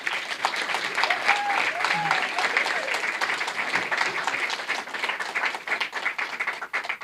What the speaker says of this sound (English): Please join me in welcoming them with a big round of applause